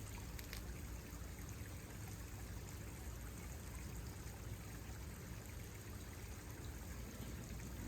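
Water pumped from a backyard pond runs steadily into a DIY waterfall, a continuous low rushing trickle that stays even and close throughout with no voices.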